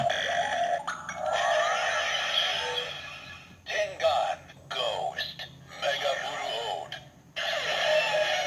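Electronic DX Megauruoder toy transformation belt sound effect with bright, buzzy synthesized tones and short chopped bursts, played loud and close and cutting in and out in segments.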